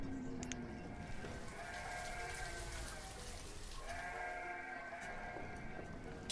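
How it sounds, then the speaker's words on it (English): Sheep bleating in the village-building game Banished, drawn-out calls heard twice over a steady background hiss resembling rain. "Sheep."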